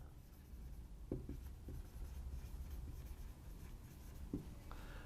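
Chalk or marker strokes on a classroom board during a lesson on separating solids from liquids: a few faint, short scratchy strokes spaced apart over a low steady room hum, with no talking.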